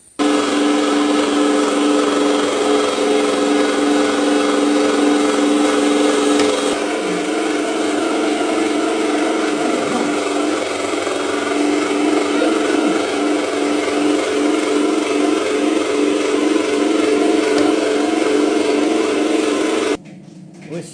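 An electric meat grinder fitted with a fine plate runs continuously, mincing a mixed ingredient blend into a sticky paste; a steady loud motor whir with grinding texture lasts about twenty seconds, then stops abruptly.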